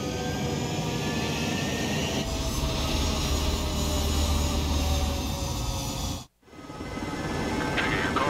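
Jet fighters taking off in Ace Combat 7 create a sustained loud engine roar with whining high tones, cut briefly before the jet noise resumes.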